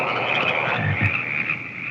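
Frogs croak over a steady, radio-like background in the 1972 horror film Frogs, the short croaks loud and clustered, with no one talking.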